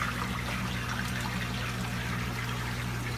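Protein skimmer effluent water trickles steadily into an aquarium sump next to the intake, a continuous close-up watery wash over a low pump hum with no talk.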